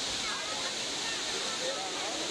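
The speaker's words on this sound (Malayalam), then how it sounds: "ഒരുപാട് ഉയരത്തിൽ നിന്ന് പല തട്ടുകളുമായി വെള്ളം താഴേക്ക് ഇറങ്ങി വരുന്നത് കാണാൻ നല്ല രസമുണ്ട്." A tall multi-tiered waterfall in Chikmagalur rushing steadily as a dense, continuous roar heard from nearby.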